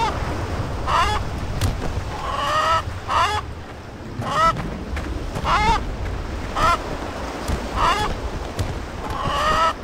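A chicken in the video game Blade and Sorcery clucks and squawks repeatedly, a string of nasal, honking calls spaced a second or so apart over low background rumble.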